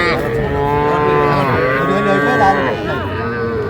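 Heifer calves at a cattle farm mooing, several long drawn-out overlapping calls close by, loud and continuous with shifting pitch.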